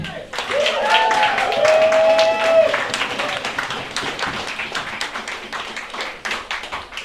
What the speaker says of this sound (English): Can I get a thunderous round of applause for Tim Lip?